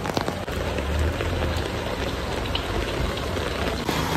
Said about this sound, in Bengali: এখন পুরো মুষলধারে বৃষ্টি চলে এসছে, মানে বিশাল জোরে বৃষ্টি হচ্ছে